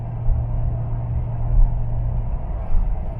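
A diesel car pulling steadily up to 90 km/h, heard from inside as a low, even engine rumble and road drone, loud and close.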